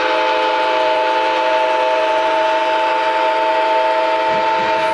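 A train horn blares continuously and loudly, a sustained multi-tone blast held for several seconds over a rushing rail background.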